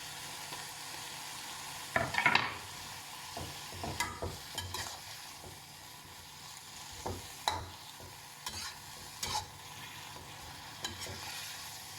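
Garlic chives frying in a pan, stirred with repeated scraping clatters and bursts over a soft, steady sizzle, with no one talking.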